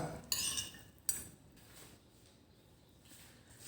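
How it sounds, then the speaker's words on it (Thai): Utensils clink and scrape against a bowl while glass noodles and pork sausage are tossed together into a salad, a couple of sharp knocks followed by softer quiet mixing. "คลุกเคล้าให้เข้ากันครับผม"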